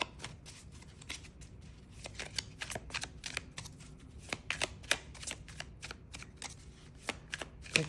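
Tarot cards are shuffled and drawn close up in quick, crisp riffling bursts and flicks that come in an uneven rhythm, with no talk over them.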